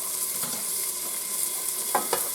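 Small sausage patties sizzle steadily in a frying pan, a dense, even hiss throughout, with a few brief scraping touches from a pancake turner.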